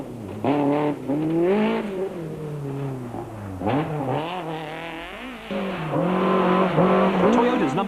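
Nissan Sentra rally car racing along a rally stage, its engine revving hard through rising and falling gear changes, loud and close throughout, with a voice talking over the engine.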